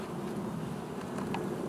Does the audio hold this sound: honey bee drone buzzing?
yes